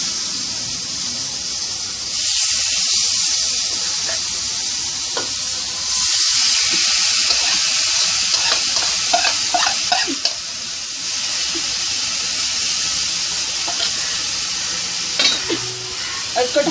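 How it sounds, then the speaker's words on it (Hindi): Marinated boneless chicken breast sizzles loudly in a kadai, a steady close hiss of frying with surges of spitting, occasional scrapes and clinks from stirring, and no voices. "अभी है ना हम इसको ये कढ़ाई के अंदर ऐसे ही डाल देंगे"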